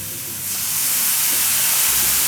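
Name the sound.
stir frying mushrooms with soy sauce, sizzling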